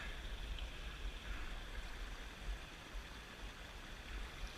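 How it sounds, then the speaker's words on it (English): A small creek in a canyon spills over a cedar log into a little waterfall, giving a faint, steady rushing trickle with no voices over it. "Making a little waterfall."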